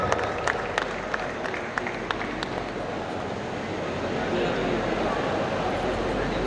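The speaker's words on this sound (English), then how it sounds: "Guys, can you have a huge round of applause?" A crowd of students at a college annual fest applauds in a sustained, dense wash of clapping with a few sharper claps early on, continuing steadily throughout.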